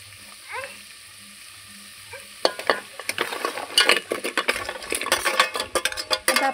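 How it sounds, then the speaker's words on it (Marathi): Crabs frying in masala in a pan, a quiet start with a few faint sounds, then loud sizzling and clattering stirs against the pan that build and continue to the end. "आता आपण ह्याचे खेकडे घालून घेतलेले आहेत आणि ह्याला छानपैकी फ्राय करून घ्यायचं आता।"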